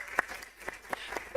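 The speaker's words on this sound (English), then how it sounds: "And a big round of applause for her." A few scattered hand claps from a small audience at a performance art talk, sparse and uneven, fading in and out over a quiet room.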